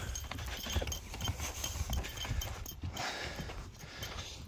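Hooves clop unevenly on the ground nearby amid a busy rustling outdoor background, the steps fading toward the end.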